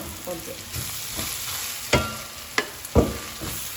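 Beef pieces stirred into a spice masala of coriander and fenugreek powder in a hot pan, a close, continuous sizzle broken by several sharp spatula scrapes and knocks against the pan, with no voices.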